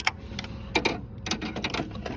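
A Pittsburgh ratchet with a 5/8 socket clicks in quick, uneven bursts of close, crisp ticks while loosening spark plugs on a 2004 Subaru Impreza 2.5 TS.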